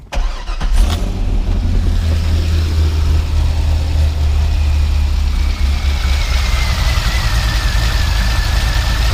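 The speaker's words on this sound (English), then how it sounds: "it is running to the OEM titanium axle backs. So let's see how she sounds." A Corvette C5 Z06 V8 idles steadily through its OEM titanium axle-back exhaust, a loud, close, continuous low rumble after a brief blip at the start, with no talking over it.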